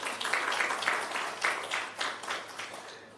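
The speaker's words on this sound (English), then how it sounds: "give yourself a clap" Attendees at a national health research conference clap for themselves, a soft, fairly distant patter of applause that pulses unevenly and tapers off within a few seconds.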